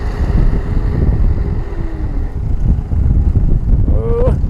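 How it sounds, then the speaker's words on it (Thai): Strong, gusty wind buffets the microphone outdoors with a loud, rumbling low roar throughout, and a brief high squeal rises near the end. "ลมก็ลมแบบ ยังแรงนะพี่น้องแบบ ไม่หยุดเลย"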